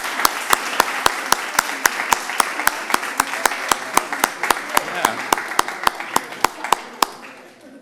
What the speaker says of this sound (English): Stand up and give yourself a round of applause